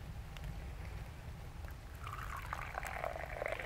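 Coffee poured from a flask on a rainy outdoor hike near waterfalls, a steady liquid trickle that grows brighter and fuller partway through, over a constant low rumble of background water.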